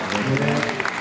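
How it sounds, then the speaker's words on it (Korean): A crowd at a Korean harmonica performance event breaks into applause, a dense, loud wash of clapping, with a voice speaking over it. "박수 부탁드리겠습니다"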